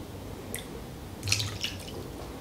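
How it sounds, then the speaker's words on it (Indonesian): Hot water poured to rinse out a Delter coffee press, heard as faint, sparse drips and trickles over a quiet background hiss, with a small cluster of splashes midway. "Kita tinggal bersihin dengan cara menuang air panas aja begini."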